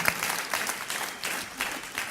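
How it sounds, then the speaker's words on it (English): An audience applauds and cheers in steady clapping bursts that pulse in waves throughout, moderately loud, with no one speaking over it. "Okay, now you can cheer. That was good. Go ahead, cheer."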